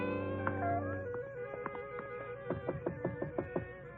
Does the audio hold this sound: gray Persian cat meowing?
yes